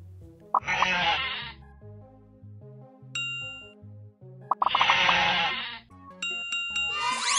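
Cartoon sheep bleat twice in a children's video game, each a loud wavering baa, with a simple melodic game tune underneath and bright chiming dings between and after the bleats.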